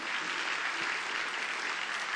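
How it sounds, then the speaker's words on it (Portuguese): Church congregation claps loudly and continuously for a couple of seconds, a thick, even wash of hands close by with no speech over it. "Aplaudir bem forte ao nosso rei Salvador Jesus."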